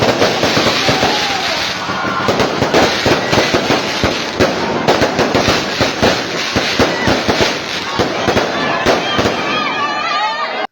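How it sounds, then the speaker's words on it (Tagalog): Fireworks burst continuously at a barangay fiesta night display in Barangay Escuala, Philippines: loud, dense, rapid cracks and pops layered over a crowd murmur with some voices, keeping up a steady barrage throughout. "biglang nagpaputok para sa fireworks display dito sa aming barangay"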